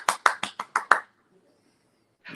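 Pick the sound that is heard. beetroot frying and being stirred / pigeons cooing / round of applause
round of applause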